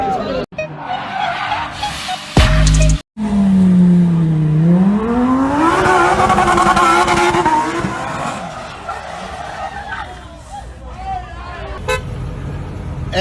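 Supercars driving hard, with a tire squeal, a sustained engine roar whose pitch sweeps up and then falls, and a brief horn toot, all heard up close over talk and crowd noise.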